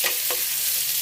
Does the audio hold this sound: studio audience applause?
no